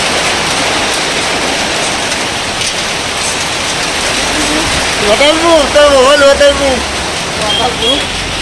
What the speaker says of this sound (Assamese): তামাম বৰষুণ দিছে একেবাৰে